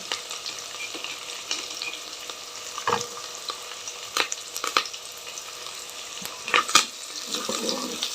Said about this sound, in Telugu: ఆనియన్ వేస్తాను నేను ఇందులోకి కొంచెంసేపు వేగనిద్దాం